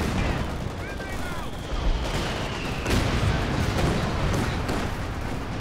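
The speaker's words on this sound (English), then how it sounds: "the strafing run coming through for Pickle Rick" Aircraft strafing-run gunfire in Company of Heroes 2, a dense, continuous rattle of machine-gun fire and distant booms across a loud battlefield, with bursts swelling near the two- and three-second marks.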